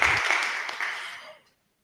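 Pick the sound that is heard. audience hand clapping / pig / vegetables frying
audience hand clapping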